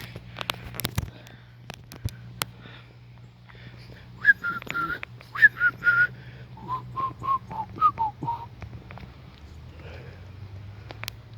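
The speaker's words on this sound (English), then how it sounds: "If I had a drink of some water, I could probably whistle better." Someone whistles a short, breathy, wavering tune of a few notes at close range, with light clicks and low background hum around it.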